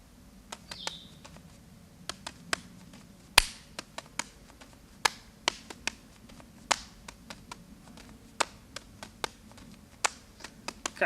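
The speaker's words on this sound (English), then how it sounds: "I know the clapping looks a little cheesy" Sharp claps between juggling throws during a continuous three-ball flash from the right hand, sounding as a steady series of crisp, close single slaps roughly every half second against a quiet room.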